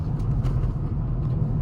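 Honda Elevate SUV engine holding around 2000 RPM during an on-road test drive, heard as a steady, even low rumble from inside the cabin with no talking over it.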